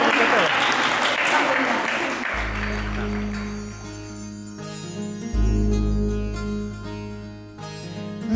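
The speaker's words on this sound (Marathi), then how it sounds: "जोरात टाळ्या वाजवायच्या." An audience at a retirement ceremony for an agricultural officer applauds in a dense wash of clapping for about two seconds, then the clapping fades under loud music that takes over.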